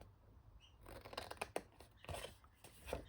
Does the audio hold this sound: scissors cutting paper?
yes